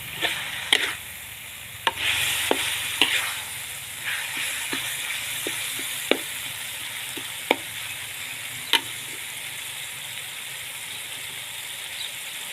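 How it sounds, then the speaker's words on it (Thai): Pork stir-fries in a hot pan for basil stir-fry, a constant loud sizzle punctuated by sharp, irregular clacks of a spatula against the pan every second or so. "เราก็จะผัดคนให้ทั่วให้หมูสุกนะคะ"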